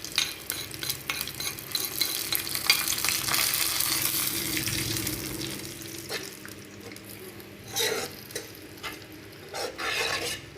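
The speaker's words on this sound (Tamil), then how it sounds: "இதில் வந்து கருவேப்பிலை போட்டு தாளிச்சு வச்சுக்கலாம்." Curry leaves sizzle in hot oil as the tempering for beetroot pachadi is prepared, a steady close crackle and hiss with scraping stirs that eases into softer bursts toward the end.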